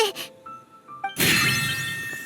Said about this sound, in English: Why is the bell ringing all of a sudden?